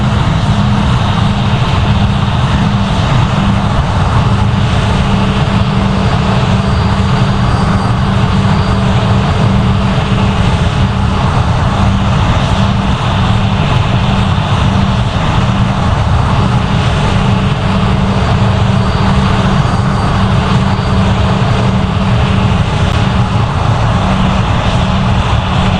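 Airbus A320 jet engines on landing approach in the flight game Project Flight give a loud, continuous broadband roar with a steady low hum underneath, unchanging throughout and with no voices.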